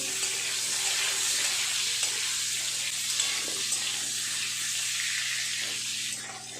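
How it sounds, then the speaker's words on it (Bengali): Potato and pointed gourd pieces fry in hot oil, giving a continuous, even sizzle that stays close and fairly loud throughout, with no talking. "আলুগুলো দিয়ে আলু পটল আর একটু নেড়ে ছেড়ে ভালো করে ভেজে নেব।"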